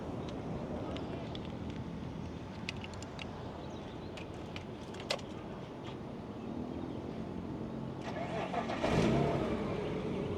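A BMW M3 E46 with a handmade Japanese exhaust, valve closed, starting up and settling into a steady, subdued engine note outdoors, with a slight swell toward the end and faint wind and background noise.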